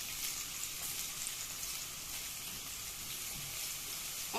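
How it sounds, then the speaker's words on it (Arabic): Minced garlic frying in a spoonful of oil in a pan while being stirred, a soft continuous sizzle with faint stirring scrapes, no talking. "جبت طاسه ونحط فيها معلقه من الزيت، وهنزل بالمعلقه بتاع الثوم اللي انا فرماها ونقلب"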